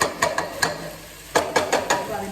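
Onions with salt and turmeric fry in a pan, giving a soft sizzle that is broken by a series of sharp scraping stirs coming in quick clusters.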